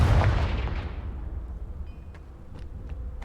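A Confringo blasting curse explosion in Hogwarts Legacy: a loud, booming blast at the start with a rumbling tail that decays, followed by a few sharper cracks later in the clip.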